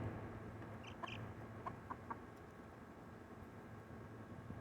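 A Silkie hen and her chicks cluck and peep softly in a yard, with a few short, faint calls scattered over steady background hiss.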